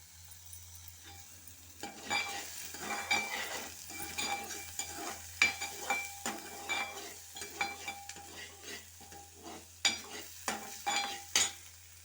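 Curry leaves are fried in hot oil in a pan for a biryani gravy, with a crackling sizzle broken by repeated stirring scrapes and clinks. The sound is close and fairly quiet, with bursts of spattering throughout.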